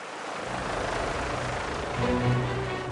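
Gendarmerie rescue helicopter on Réunion island, a steady broadband rotor and turbine roar with a faint whining tone rising near the end, no voices.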